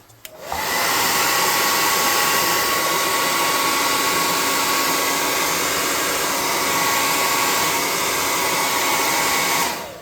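A hair dryer blows steadily and loudly over a freshly painted tabletop miniature, an Easter-themed horror figure. It starts after a brief moment and runs unbroken to the end with no voices.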